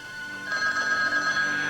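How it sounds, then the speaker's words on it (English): A telephone on a private line rings with a steady electronic bell tone, close and clear, sustained for under two seconds with no voices over it. "Now, if you'll excuse me, Claire, I'd like to answer the phone on my private line"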